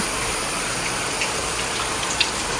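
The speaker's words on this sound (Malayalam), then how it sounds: "തുടങ്ങിയ മഴയാട്ടോ ഇതുവരെ മാറിയിട്ടില്ല" Steady rain that has kept falling for a long time makes a dense, continuous hiss close by, with a faint patter of drops and one small knock near the end.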